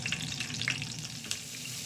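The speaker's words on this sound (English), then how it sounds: "Listen to that sizzle" Steady crackling sizzle of hot dogs frying in a hot pan, continuous hiss with small pops throughout, close up and fairly quiet.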